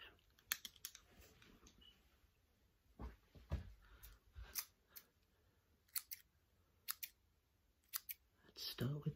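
Close scissors snip in short bursts of crisp metallic cuts during an ASMR haircut, the rhythm uneven with pauses, some snips in quick pairs, over soft rustling.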